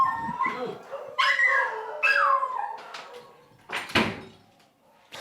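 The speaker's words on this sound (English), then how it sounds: "There's some dogs singing over here." Several dogs howl and yip together close by, their rising, wavering cries coming in bursts with short gaps, with a door-like knock near the end.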